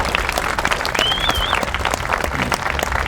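An audience at a government youth summer jobs announcement applauds a speaker with steady, dense clapping, a brief whistle-like tone riding over it and a few murmurs mixed in.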